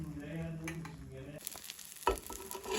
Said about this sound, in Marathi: सो आतां हांवें तव्यार सोडटा, बरें फ्राय करून घेता.